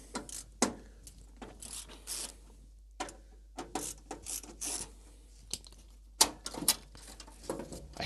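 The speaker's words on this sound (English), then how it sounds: "Let me grab the longer ratchet, use that as a socket." Ratchet clicking in short irregular bursts while working on the power supply mount of a DECwriter III terminal, close and fairly quiet, with pauses between strokes.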